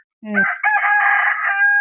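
A country rooster on a Tamil poultry farm where the birds are raised for sale, one loud, close cock-a-doodle-doo preceded by a short low cluck, no talking.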